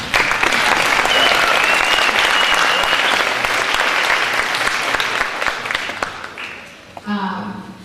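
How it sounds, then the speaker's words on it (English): Audience applause at a fifth-grade winter school band concert, a dense wash of many hands clapping steadily for about six seconds before tapering off, with a brief pause and some faint movement at the end. "Please give them and yourselves a round of applause."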